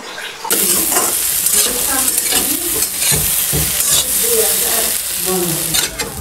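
Soya chunks sizzle loudly in a hot iron pan while a utensil stirs and scrapes, a steady close frying hiss throughout.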